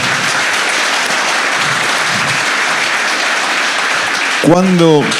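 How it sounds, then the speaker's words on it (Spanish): Loud, dense applause from a large audience at a talk with tennis player Juan Martín del Potro in Rosario, continuous for several seconds before a voice begins speaking near the end. "un aplauso para él"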